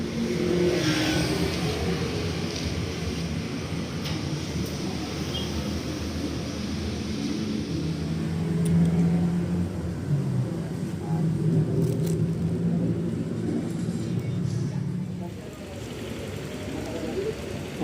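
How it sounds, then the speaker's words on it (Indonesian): An Akas Aurora Platinum Class coach pulls in with a loud, close engine rumble that swells and eases as it arrives, over traffic noise and a brief voice. "ini bisnya udah datang"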